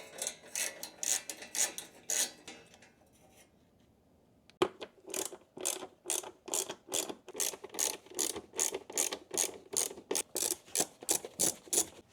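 A ratchet loosens Torx bolts on a Mercedes C63S engine bay, producing rapid rhythmic clicking strokes that pause briefly, then resume in a steady, even series, close and distinct.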